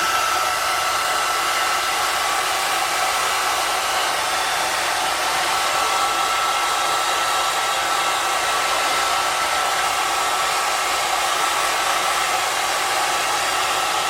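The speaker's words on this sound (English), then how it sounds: "Now I'm going to dry it a little bit." A hair dryer blows on bleached hair that is being taken to platinum silver at home. It gives a loud, steady, close whoosh that runs without a break for the whole fourteen seconds, with no talking.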